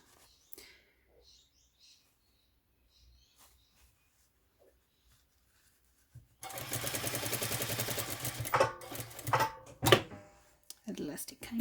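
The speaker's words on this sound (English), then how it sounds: "Just going to sew in a little way on this side." After a mostly quiet start with a few small knocks, a sewing machine stitching a fabric face mask starts up close and rattles steadily for several seconds, then stops and starts in a few shorter runs.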